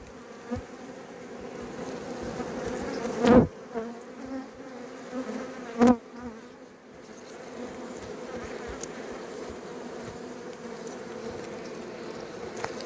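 Steady buzzing of bees close by, a continuous droning hum with a couple of louder passes as insects fly near.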